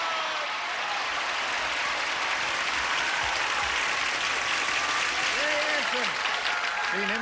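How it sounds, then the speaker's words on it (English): Brisk studio audience applause on the Match Game-Hollywood Squares Hour game show, a dense, steady clapping that fills the whole stretch, with a voice briefly rising above it near the end. "A brisk round of applause."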